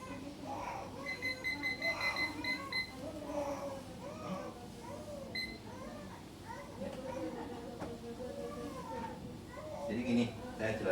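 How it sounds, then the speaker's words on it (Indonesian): A timer alarm rings in repeated beeping bursts, partly buried under a speaking voice and background chatter, with a muffled indoor feel. "Jadi itu bunyi timer ya, saya timer ya"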